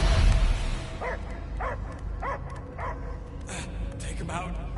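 A dog barks in the Guardians of the Galaxy video game, about five evenly spaced barks over a low, rumbling game background.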